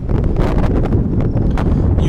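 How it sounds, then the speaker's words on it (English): Steady wind buffeting the microphone, a constant low roar with gusty rustling, loud and close throughout. "kind of windy today"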